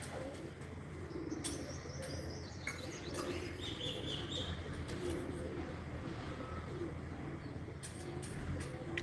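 Pigeons coo and chirp on a rooftop during a pigeon-flying tournament, soft calls and occasional wing flaps over a constant background hiss.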